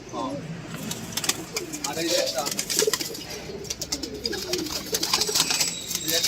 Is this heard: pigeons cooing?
yes